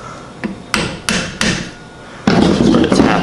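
A hammer taps a wooden handle into a hatchet head with about four sharp, close strikes a few tenths of a second apart. A denser burst of knocking and scraping follows.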